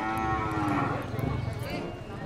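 Carabao at a livestock auction bellow with long, drawn-out moos, loud and close, over a murmur of crowd and distant talk.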